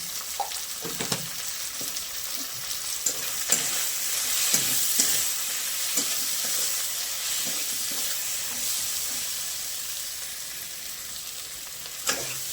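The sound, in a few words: spices and tomato frying in a pan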